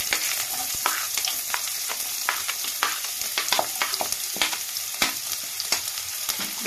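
Chopped onion and green chilli frying in oil already tempered with cumin and dried chilli for a banana-flower curry, giving a dense, constant crackling sizzle with repeated sharp scrapes of a spatula, close up and with no talking.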